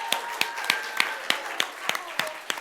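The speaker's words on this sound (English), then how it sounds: "Let's give a round of applause again to everyone who performed." Comedy show audience applause, sparse and rhythmic, with individual claps spaced a fraction of a second apart, fairly near and moderately quiet.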